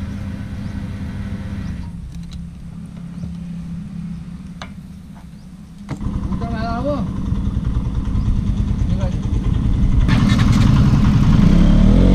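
A KTM RC 200 motorcycle idles close by at a fuel stop, a steady low engine hum that grows louder and rougher partway through, with brief voices and chirpy sounds over it.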